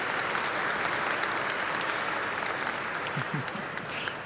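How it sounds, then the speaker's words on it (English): A studio audience gives a sustained round of applause, dense steady clapping from many hands filling the room at an even level throughout. "maybe just a quick round of applause for building such an awesome database"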